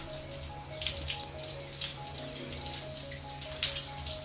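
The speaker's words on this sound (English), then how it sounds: "I saturate my hair with water." Water runs from a tap while hair is soaked through, a soft, continuous splashing trickle, faint and close, with a faint steady hum beneath it.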